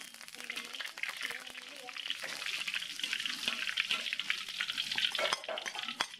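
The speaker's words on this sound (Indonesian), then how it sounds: "Daun salam, daun jeruk. Ini langsung saya goreng dulu." Bay leaves and lime leaves fry in hot cooking oil for fish floss, giving a steady, close sizzle with stirring scrapes and clinks running throughout.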